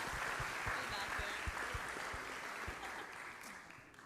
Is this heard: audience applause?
yes